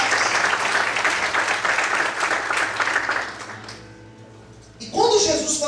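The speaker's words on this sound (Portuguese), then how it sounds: "Sempre a Deus que quiser mais forte as palmas" Church congregation clapping together, dense steady applause that fades out after about three seconds, followed by a short burst of voice near the end.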